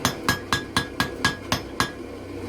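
Seven light, evenly spaced hammer taps on metal while forging a leaf hook, each a short ringing clink, close by and steady in rhythm.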